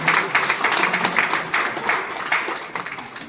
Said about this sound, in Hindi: तो सर के लिए एक बार जबरदस्त ताली देना चाहिए।